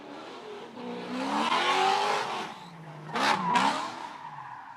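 A drift car engine revs hard with rising and falling pitch, then its tires squeal loudly in a second burst, close and continuous at a drift event pit.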